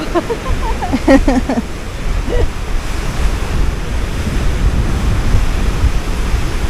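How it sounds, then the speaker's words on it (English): Ocean surf at Piha Beach, New Zealand, roars continuously with heavy wind buffeting the microphone, a loud low wash, while a person speaks briefly near the start. "Wow, look at those waves."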